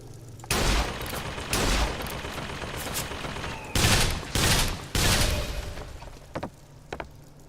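Turret gunfire in the video game Bioshock Infinite, several loud bursts of rapid automatic shots lasting about a second each, separated by short pauses, with a lower rumble underneath.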